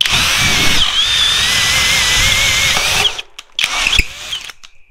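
A Flex cordless drill running in turbo mode bores loudly through a knot in wood, a steady high whine for about three seconds before it stops, followed by a few brief clunks and bursts as the bit pulls free.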